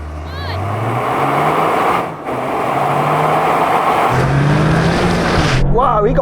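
Toyota GR Yaris cars launch hard in a drag race, engines roaring loud and close with rising revs and a brief dip at a gear shift, while voices talk over the noise.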